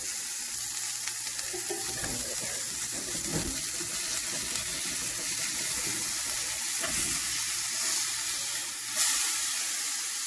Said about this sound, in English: If it didn't have all that beef fat in it, it wouldn't be sizzling.